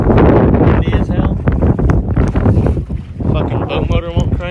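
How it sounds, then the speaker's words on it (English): Strong wind buffets a fishing boat out on the water, roaring loud and gusty right against the microphone, while voices talk through the blustery noise. "Windy as hell."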